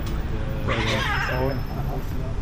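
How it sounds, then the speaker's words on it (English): Cats fight outdoors in Istanbul near a dome sauna area, giving a short, wavering yowl of caterwauling over a constant low background hum. "Ooh, cat fight."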